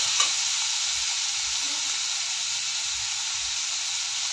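Chopped green beans stir-frying in a pan for a Marathi-style beans bhaji, giving a loud, steady sizzle and hiss that holds without a break, with no talking.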